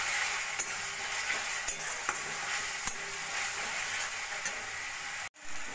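Onion masala with meat masala and Kashmiri chili powder fries and sizzles steadily in a pan for a mati aloo curry, a close continuous hiss broken by light stirring taps and a brief pause near the end.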